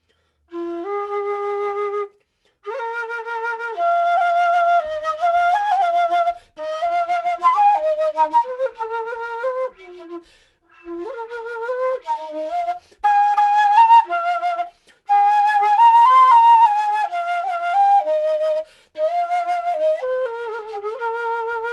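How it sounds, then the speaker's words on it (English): A breathy Ecuadorian quena, an end-blown flute, plays a wandering melody in phrases separated by short pauses, clear and close with no accompaniment. "And that's the sound of the quena."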